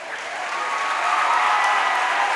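A women's college basketball crowd at a regional tournament final applauds a player, a dense steady wash of clapping that swells slightly and holds at a moderate, even level throughout.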